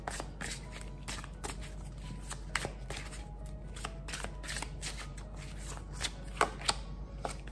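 Tarot cards are shuffled in a rapid, crisp series of riffling bursts and soft slaps, close by and fairly quiet against a low steady hum, with no one speaking.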